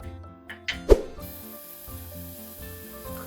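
Chopped onion sizzles as it fries in a pan for a quinoa risotto, a steady close crackle with a few knocks and plops of stirring at the start.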